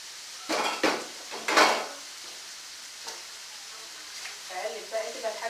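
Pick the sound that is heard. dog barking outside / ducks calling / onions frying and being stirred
onions frying and being stirred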